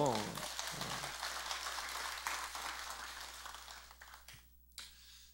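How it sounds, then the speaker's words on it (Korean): A crowd at a Sunday Buddhist service at Jogyesa temple claps together in a sustained burst of applause that gradually thins out toward the end, with a brief quiet gap before scattered claps resume. "이때 박수 한번 치는 거예요"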